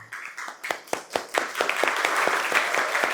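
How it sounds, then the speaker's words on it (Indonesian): A college classroom group claps on cue, starting with sparse, separate claps that quickly thicken into a fuller, louder round of applause, fairly close by. "beri tepuk tangan mulai pelan, semakin lama semakin keras"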